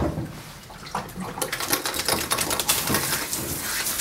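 Water splashes and sprays over a Shih Tzu's coat during a rinse in a bath, a loud hissing patter that grows stronger partway through and keeps running.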